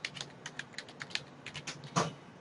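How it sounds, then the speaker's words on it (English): Computer keyboard keys tapped in quick irregular bursts while a search query is typed, close and clear, with a few sharper louder strokes near the end and no voices. "I'm going to start our search by typing in our patient problem and our intervention"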